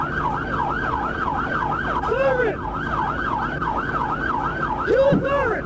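Police car sirens during a high-speed chase and arrest, a loud rapid wailing yelp cycling continuously, with brief extra siren sweeps layered in near the end.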